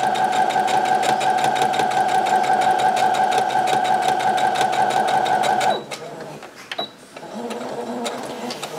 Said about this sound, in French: Et puis, là on va coudre.